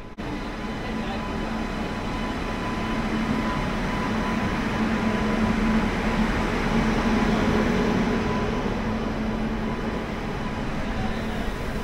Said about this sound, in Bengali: আমাদের এই যে কান্ডারি এক্সপ্রেস ঢুকছে 22898।